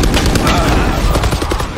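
Rapid gunfire from the PC shooter Valorant bursts loud and dense, a continuous fusillade of shots that fills the whole moment.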